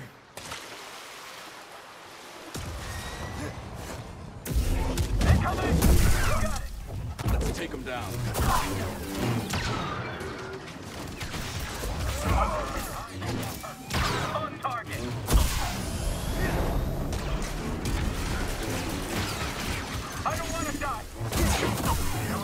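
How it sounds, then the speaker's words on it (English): Blaster gunfire in Star Wars Jedi: Survivor, rapid bursts of shots crackling over a noisy battle bed, with voices talking throughout. "You shouldn't be shooting at me."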